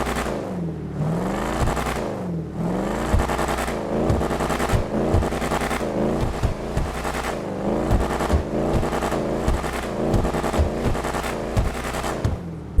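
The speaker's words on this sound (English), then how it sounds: "we may as well get into the engine sound, and I'm just gonna let y'all have a listen for yourselves" Buffalo STX, a video-game take on the Dodge Charger SRT Hellcat, runs its V8 with steady revving, the throaty rumble rising and falling through repeated throttle blips and pulses, loud and close with no supercharger whine and no talk.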